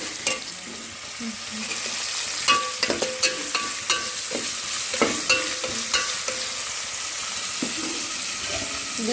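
A Telugu home-style tempering (talimpu) frying in a pan, with a steady sizzle broken by sharp clinks and scrapes of a stirring utensil, close and moderately loud, with no talk.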